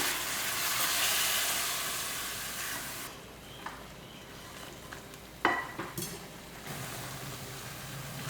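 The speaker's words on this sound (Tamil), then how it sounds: "இந்த அரைச்சி வச்சுருக்க விழுதையும் அதில் சேர்த்துடலாம் சேர்த்துட்டு நல்லா கலந்து விட்டுருவோம்" Ground paste being stirred into sautéed eggplant and egg mixture in a pan: a soft frying hiss that fades, then a few light scrapes and clinks of the spoon against the pan, all fairly quiet.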